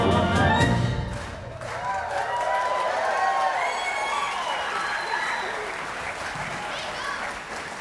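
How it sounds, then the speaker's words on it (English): A concert hall audience at a band show applauds steadily. Dense clapping and some cheering carry on for several seconds after the music ends, and it begins with a louder swell. "One more round of applause for everyone who has served our nation in uniform."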